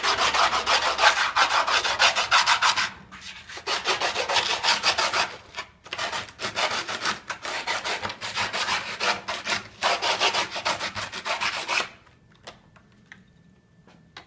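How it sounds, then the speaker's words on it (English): Screwdriver tip scratching an outline into skateboard grip tape, loud close gritty rasping in long bursts separated by short pauses, trailing off into quiet near the end. "you're basically going to scratch an outline on your grip tape of your board"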